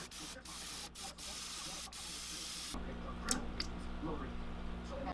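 An airbrush spritzing reddish paint over a handmade warmouth swimbait, a steady close hiss that shifts and changes tone partway through, with a few short ticks and a person talking at the same time.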